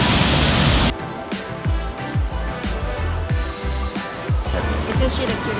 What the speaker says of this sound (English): this waterfall right here